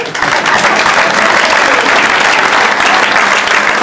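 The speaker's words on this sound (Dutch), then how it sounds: "geef hem een groot applaus" An audience at a carnival society gala bursts into dense, loud applause that holds steady throughout, with many hands clapping at once.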